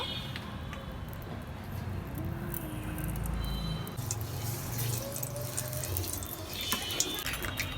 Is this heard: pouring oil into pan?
yes